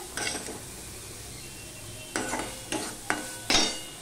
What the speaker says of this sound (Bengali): এবার এর মধ্যে আমি এই ভেজে রাখা আলু আর ভেন্ডি দিয়ে দিলাম। দিয়ে এগুলো সব মিশিয়ে আরেকটু কষিয়ে নেব।